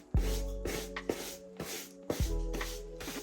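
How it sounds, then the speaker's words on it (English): Angelus Mink Oil is sprayed onto Travis Scott Air Jordan 1 "Velvet Brown" suede sneakers in several short, close hissing bursts with brief pauses between them, alongside faint handling noises. "take our Angelus Mink Oil, go ahead, spray the shoes"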